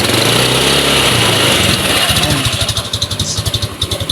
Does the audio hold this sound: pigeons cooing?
no